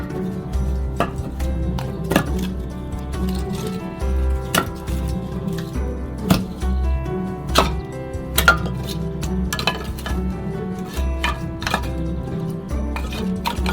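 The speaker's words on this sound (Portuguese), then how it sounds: "Abrimos o forno. Colocamos a lenha." Firewood being placed into a pizza oven, a run of irregular wooden clunks and sharp knocks over a low steady hum, close and moderately loud.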